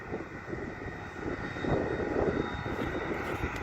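A John Deere 9360R tractor pulling a 42-foot air drill with a shop-built tank drones steadily at a distance across a ranch field, a low continuous engine rumble swelling slightly as it passes, with no talk.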